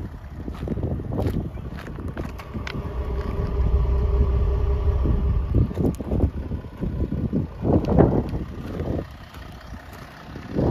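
An Audi A5 B8 2.7 TDI diesel engine idles steadily at about 640 rpm, a low rumbling hum with some wind noise and faint background sounds.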